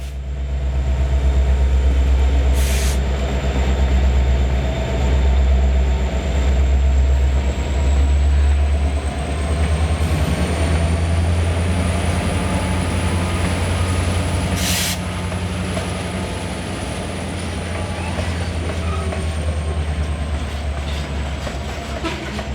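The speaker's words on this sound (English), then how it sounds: "The train was headed by 2 SD70 Aces" A heavy freight train headed by two SD70ACe diesel locomotives rumbles past with a deep, steady diesel drone and rolling wheel noise, loud and close, slowly easing over about twenty seconds.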